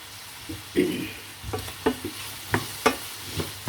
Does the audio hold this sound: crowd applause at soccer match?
no